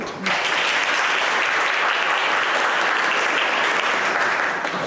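An audience at an inaugural graduate lecture applauds, a steady, dense burst of clapping that starts abruptly and holds at full strength throughout, filling the room with no voices over it.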